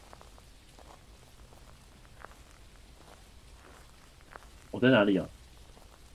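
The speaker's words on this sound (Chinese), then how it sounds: "而且又下雨，现在气候会影响" Steady rain falls outdoors in the Phasmophobia ghost-hunting game, a faint, even hiss running throughout, with a voice speaking loudly over it near the end.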